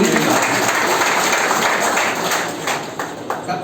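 An audience at a marketing seminar breaks into applause, a thick, steady roar of many people clapping at close range that holds level, then tapers slightly with a few scattered claps near the end.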